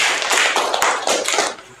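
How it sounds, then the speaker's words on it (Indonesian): Applause from students in a senior high school classroom, a dense burst of clapping hands that fills the room, steady and fairly loud for under two seconds before tapering off. "Oke, tepuk tangannya dong."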